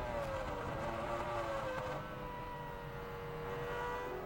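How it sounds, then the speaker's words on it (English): Formula 1 cars from the 2000 season, including Ferrari and McLaren, racing on track, a faint, distant engine whine holding a high pitch and sliding slowly lower. "The Ferraris run in sync as Barrichello makes a move of his own, this time to pass David Coulthard in the McLaren."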